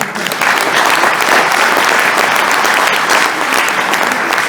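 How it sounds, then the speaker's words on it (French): Loud, dense applause from a crowd at a rally prize-giving in Normandy, continuous clapping that swells after a brief start and stays strong throughout. "Michel Dutot, vous pouvez l'applaudir"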